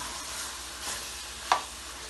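Minced meat for qeema aloo frying in oil, a soft continuous sizzle heard up close with a brief spatula scrape and one sharp clink of utensil against the pan near the end.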